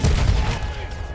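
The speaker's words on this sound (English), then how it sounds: "And I just destroyed explosives." Explosives blow up in a WW1 video game, one loud, close, low rumbling blast that fades over about a second.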